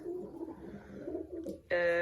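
Soft pigeon coos murmur low in the background from a pigeon breeding terrace, followed by a brighter bird call near the end.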